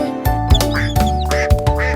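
Repeated duck quacks over a steady musical backing, several calls in quick succession, close and fairly loud.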